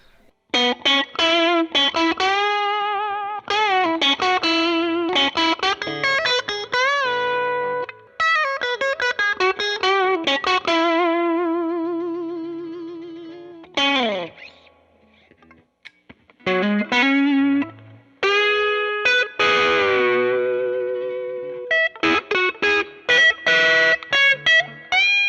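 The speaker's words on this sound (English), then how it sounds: "throw a little tube screamer on there." Electric guitar through a Fender Blues Junior amp with a Tube Screamer overdrive pedal, gritty driven chords and licks in bursts separated by short pauses, played alone.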